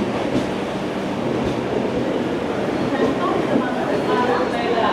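The Deccan Queen Express, train 12124 from Pune to Mumbai, runs past Dadar station in a continuous close rolling rumble with faint rhythmic clatter, while a voice speaks over it.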